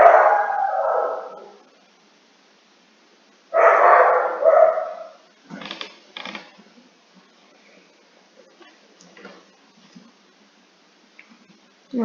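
A dog barks loudly inside a house in two long, drawn-out bursts, followed by faint clicks and near silence.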